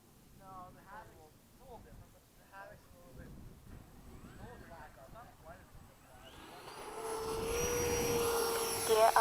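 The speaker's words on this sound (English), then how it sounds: "So let's get the gear down, chop the throttle, dive right towards the runway, do another touch and go." An FMS 80mm Hawk RC jet diving toward the runway for a touch and go. Its engine sound rises into a loud, steady whoosh over the last few seconds, with talk over the earlier part.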